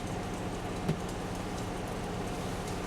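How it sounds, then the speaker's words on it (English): Faint steady bubbling and hiss of water boiling in a pot inside a semi truck, an even low wash of sound with a single small knock partway through. "But it looks like we're boiling now."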